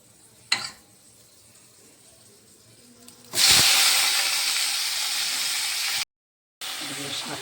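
Salted chopped radish greens with a little potato hit a hot pan with a loud, sudden hiss that holds steady for several seconds, briefly cut out, then resumes; a faint knock sounds just before.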